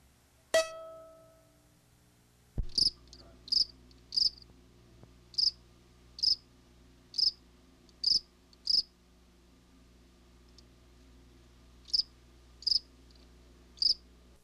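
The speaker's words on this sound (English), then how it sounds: "The most common night sounds in our backyard are crickets. The high-pitched singing is the snowy tree cricket. The other is the more common field cricket." Snowy tree crickets and field crickets sing at night in a backyard: a steady high chirping repeats in evenly spaced pulses over a quiet background, preceded by a single brief knock, with no voices.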